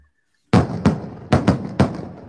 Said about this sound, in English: there's even going to be like fireworks